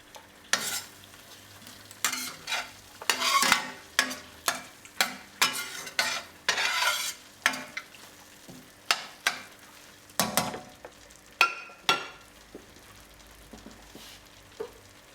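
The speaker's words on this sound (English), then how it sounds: "Give this a good stir and let the juice of the tomatoes continue to mingle in with the spices that we have roasting in the pan" Tomatoes and spices roast in a pan for a prawn and pumpkin curry, stirred in a run of quick, rhythmic scraping strokes over a low sizzle, close and distinct, then slowing toward the end.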